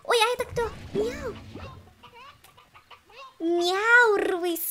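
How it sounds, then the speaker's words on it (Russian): A rooster in the game Slime Rancher gives a burst of clucking and crowing calls, loud and close, with short pauses between phrases and a voice talking near the start. "Это же петух."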